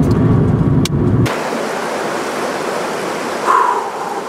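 A car drives along an Alaska road, a loud close broadband road and engine rush that drops in tone after a brief burst, with a short higher whine near the end.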